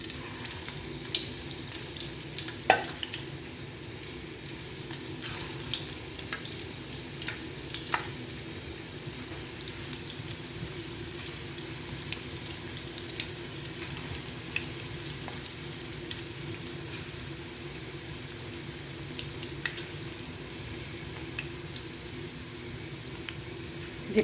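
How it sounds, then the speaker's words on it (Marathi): Vegetable koftas fry in hot oil in a wok, giving a soft continuous bubbling sizzle with scattered small crackles and pops. The sound is moderate and close, with a few brief clinks, and no one speaks. "आता कढईत तेल टाकूया कोफ्ते तळायला"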